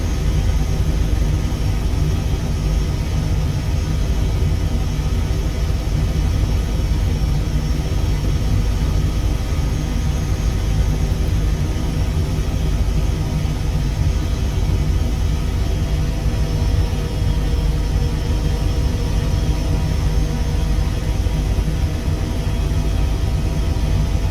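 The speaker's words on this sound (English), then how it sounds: "We're a helicopter. We request infield departure." Airbus H160 helicopter engine in Microsoft Flight Simulator during offshore operations, a loud, continuous, low rumbling drone that stays steady throughout with no talking.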